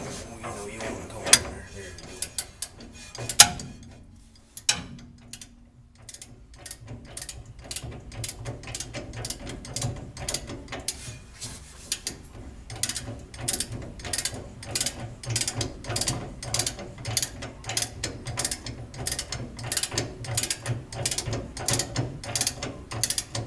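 Homemade gears turning on their axles give off a steady, fairly loud run of ratcheting clicks, sparse and uneven at first and then settling into a fast, even rhythm of sharp mechanical ticks with no other sound.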